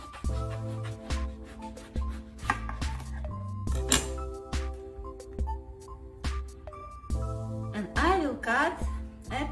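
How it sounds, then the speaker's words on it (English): A knife chops through an eggplant on a board during home cooking prep, with a series of sharp, close cutting strikes that are partly masked by steady background music. "I will cut an eggplant."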